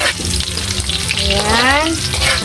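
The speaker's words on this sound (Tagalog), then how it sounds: "Magisa na po tayo mga idol. Ilagay po yung bawang. Ayan. Halu-haluin po" Garlic sautés in a hot pan for adobong kangkong, a loud close sizzle with stirring scrapes, and a short rising tonal squeal partway through.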